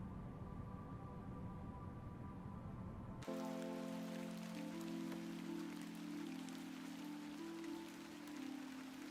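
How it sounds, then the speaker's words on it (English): Steady rain falls in the video game The Excavation of Hob's Barrow, a constant hiss that runs through the whole scene, with a soft tonal music bed joining partway through. "Raining again."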